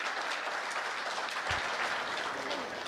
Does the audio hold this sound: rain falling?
no